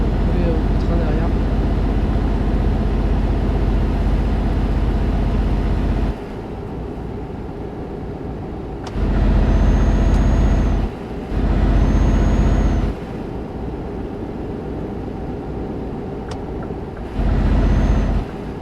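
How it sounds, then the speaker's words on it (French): Heavy trucks in a convoy rumble steadily past at close range, with several louder surges as individual rigs go by and air-brake hiss in places; voices speak now and then over the traffic. "Ça doit être les trucks qui vont rouler au train derrière."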